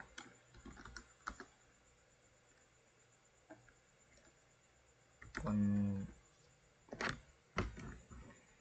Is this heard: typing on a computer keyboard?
yes